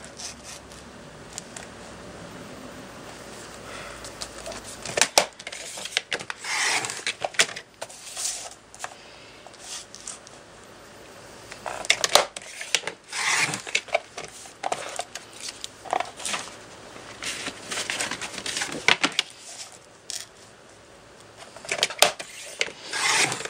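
Paper is trimmed down to size for a shabby chic book stack craft, making repeated scraping, rasping strokes at close range with short pauses and small handling rustles.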